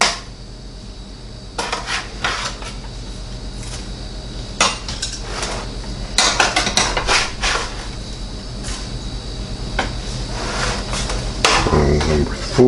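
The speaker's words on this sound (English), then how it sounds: "So I'm just going to flip them with my spatula here." A metal spatula scrapes and clanks on the grates of a Weber Genesis II E-310 propane gas grill while flipping bison burgers, making repeated sharp, close metallic knocks and scrapes over a steady sizzling hiss.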